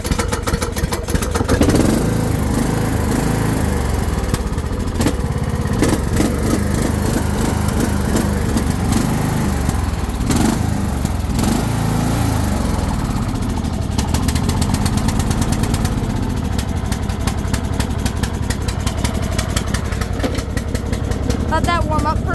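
A Troy-Bilt or Craftsman lawn mower engine runs loud and close, a continuous rough, buzzing drone with a rapid pulsing beat throughout.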